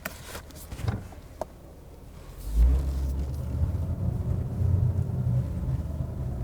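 A few clicks and thumps, then a Lexus RC F engine starts with a deep rumbling burst and settles into a loud, throaty idle close by.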